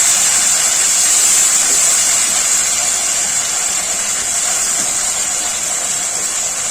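Water poured onto sizzling spice masala in a pan while cooking pineapple aloo dum, giving a loud, steady steamy hiss that holds for the whole stretch with no talk.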